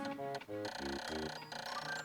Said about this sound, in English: I need to set my phone to silent